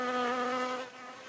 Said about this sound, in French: Les abeilles ont entamé leur production de miel cette année avec les fleurs de colza.